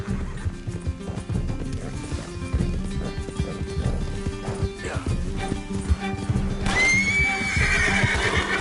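A horse neighs and its hooves clatter along at speed amid a busy, loud mix of music and commotion, with a sharp whinny near the end.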